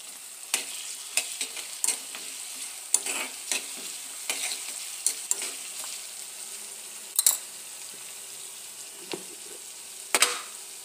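Tomatoes sizzle in a pan for a capsicum curry with turmeric and cashew pieces, a steady frying hiss broken by repeated scraping stirs of a spoon, close and without talk.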